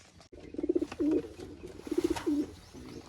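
Pigeons coo in two clear, rhythmic bursts of low throaty calls, close by, with a brief rustle between them.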